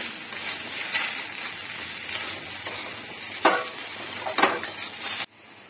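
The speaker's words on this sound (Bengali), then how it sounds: "এবারে এগুলো একটু ভাজা ভাজা হয়ে যাবে" Ground coriander, cumin and turmeric frying with mixed vegetables in a pan, giving a steady sizzle with a few sharper scraping stir strokes near the end before it cuts off.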